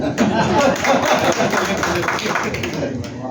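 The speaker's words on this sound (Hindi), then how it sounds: "जानदार लोग तो ताली बजाई दें।" An audience clapping at a crowded public gathering, dense and continuous throughout, with voices mixed into the noise.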